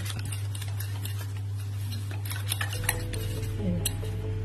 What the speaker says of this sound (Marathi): आता बेसन पिठामध्ये एक गाठ नसावी असं आपल्याला बेसन पीठ फेटायचं आहे